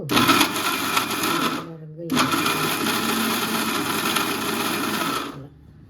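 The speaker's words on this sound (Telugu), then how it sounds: "మిక్సీ జార్లో వాడ్చుకున్న ఉల్లిపాయ, టమాటా, కొత్తిమీర, కరివేపాకు అన్నీ మిక్సీ జార్లో వేసుకోవాలి." A mixer grinder whirs loudly blending onion, tomato, coriander and curry leaves for chutney, running in two bursts with a short pause between, then stopping.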